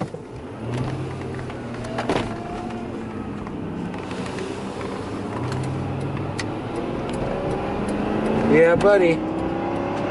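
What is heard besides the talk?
Lincoln limousine accelerating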